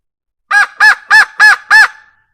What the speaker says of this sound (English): You can do crow calls.